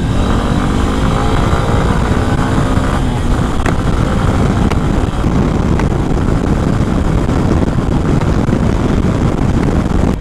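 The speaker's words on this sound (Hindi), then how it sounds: "थोड़ा ब्रेक टेस्ट करके देखते हैं, अभी इस बाइक जो 60 प्लस है," A 2024 Honda SP 160 BS7 with dual disc brakes rides at over 60 km/h during a brake test, its engine a steady drone buried under constant heavy wind rush at the microphone, with no voices.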